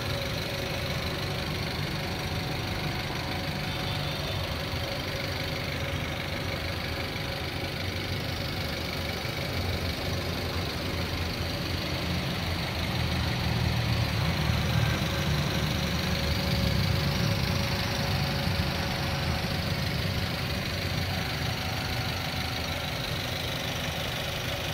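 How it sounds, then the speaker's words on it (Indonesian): A 2010 Toyota Avanza G with a manual gearbox idles steadily, a continuous mid-pitched engine hum with a faint knocking rhythm, heard close and alone, swelling slightly louder midway. "silakan mendengarkan suara irama mesinnya"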